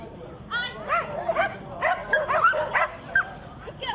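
A small dog in an agility competition gives a rapid run of high yips and barks, close and fairly loud, with no voices over it.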